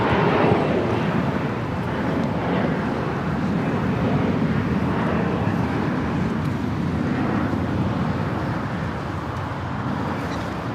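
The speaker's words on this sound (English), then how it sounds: "Next takeoff here on the south side." A jet, a Delta 737-800, rolls and takes off on the south side of LAX with a broad, steady roar that holds for the whole stretch, mixed with wind and distant traffic.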